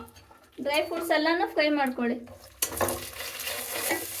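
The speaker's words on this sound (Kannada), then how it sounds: "ಬಾದಾಮಿ, ಗೋಡಂಬಿ, ದ್ರಾಕ್ಷಿ, ಇದು ಮೂರನ್ನು ಡ್ರೈ ಫ್ರೂಟ್ಸ್ ಎಲ್ಲ ಫ್ರೈ ಮಾಡ್ಕೊಳ್ಳಿ" A person speaks briefly, then almonds, cashews and raisins hit a hot pan and break into a bright, crackling sizzle that carries on steadily near the microphone.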